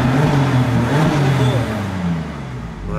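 BMW engine revved in Sport mode through its original factory exhaust, a loud close growl climbing and falling in pitch, then settling lower with no talk over it.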